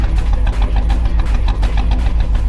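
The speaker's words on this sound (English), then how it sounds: "As you can probably hear, the car is not sounding too great." A Chevrolet C6 Corvette with an intermittent throttle position sensor issue idles roughly, its deep, close engine rumble pulsing unevenly with irregular surges and stumbles.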